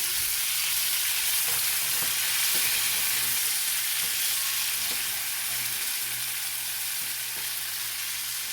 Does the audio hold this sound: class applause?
no